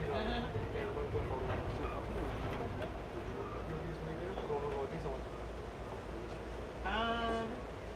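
Constant low rumble and rattle of an Amtrak passenger train rolling along the tracks to Los Angeles, steady throughout, with voices chatting over it.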